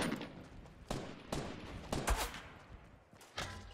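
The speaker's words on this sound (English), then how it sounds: "I don't know where is everybody shooting at." Scattered Fortnite gunfire cracks out in several separate bursts at irregular intervals, fairly distant and quiet, with short bangs and brief rattles over a low background.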